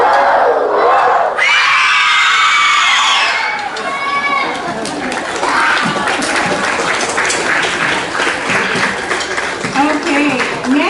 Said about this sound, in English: let's celebrate them for that. Roller coaster cheer on 2